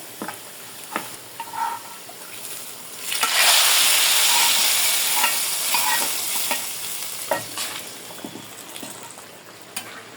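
Nigella seeds (kalonji) sizzle in hot oil as a tempering for dal, a bright crackling fry that swells into a loud burst midway and then settles, with stirring clicks throughout.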